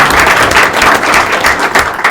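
An audience at a legislative breakfast in Rutland bursts into loud, dense applause, steady clapping from many hands filling the room close by.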